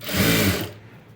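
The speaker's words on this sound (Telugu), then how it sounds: "తర్వాత ఇలా ఓపెన్ చేసేసుకుని టాప్ స్టిచ్ వేసేయండి" A sewing machine top stitches cloth on the front part of a garment in one brief, steady whirring run that cuts off abruptly, leaving quiet room tone.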